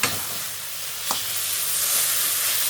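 Ingredients for a northern-style Thai eggplant salad sizzle loudly in a hot pan, a bright, steady hiss with a scrape of stirring partway through, heard up close with no voices.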